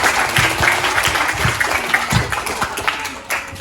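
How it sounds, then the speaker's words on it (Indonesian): A tour group visiting the Indonesian parliament building claps on cue, a short burst of fairly close, uneven applause from a modest crowd with some louder individual claps. "Boleh tepuk tangan."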